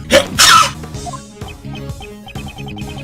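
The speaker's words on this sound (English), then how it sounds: "I'm about to sneeze." A theatrical sneeze bursts out with two loud explosive blasts in quick succession, followed by a softer tail of light musical tones with no talk.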